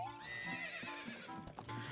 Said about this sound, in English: Hey! There's Epona